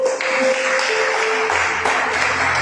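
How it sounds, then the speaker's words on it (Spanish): Sustained clapping from a church congregation, steady and dense throughout, with a low hum entering partway through. "quienes pueden dar un aplauso al Espíritu Santo"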